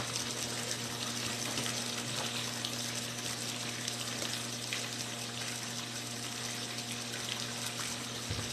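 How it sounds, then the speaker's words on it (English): Downy Rinse and Refresh fabric softener being poured into a mixture, giving a steady, continuous watery hiss and gush throughout at low level, with a faint hum underneath and no talking. "we're going to add in some Downy Rinse and Refresh"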